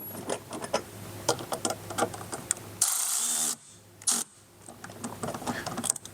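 Ratchet clicking as it drives a Torx screw on a 2023+ GMC Canyon while fitting a mud flap clip, a brisk close run of ratcheting clicks with a louder burst of turning partway through, no talk.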